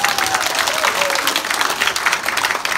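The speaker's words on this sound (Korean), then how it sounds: "박수!" Concert audience applauding in a theater, steady dense clapping throughout, fairly loud with a faint crowd murmur beneath.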